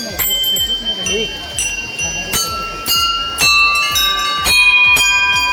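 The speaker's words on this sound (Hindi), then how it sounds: "ये जो घंटी है ना ओकर साउंड ला आप मतलब दिखाता हूँ" A bell is struck repeatedly at a steady pace, each bright metallic ring sustaining while a person talks quietly underneath.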